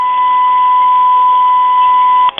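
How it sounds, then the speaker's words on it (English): Steady electronic beeping from a home telephone answering machine, a single continuous tone held for over two seconds before cutting off, loud and close with no talk over it. "That sound was my answering machine going away"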